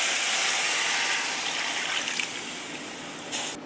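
Seasoned water poured from a bowl into a pot of curried mangrove crabs, a continuous splashing gush close by that gradually eases off toward the end.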